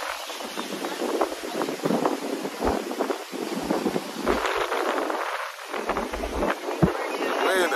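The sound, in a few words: strong wind blowing into the microphone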